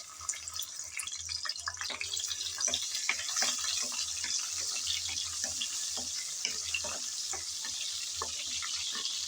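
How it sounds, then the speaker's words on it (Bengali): Shrimp sizzle in hot oil in a pan, a steady close crackle with scattered sharp pops throughout. "গরম তেলে চিংড়ি দিয়ে দিলাম।"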